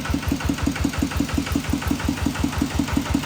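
A Kubota RT90 diesel engine runs close by with a steady, rapid thumping beat, loud and even throughout with no talking.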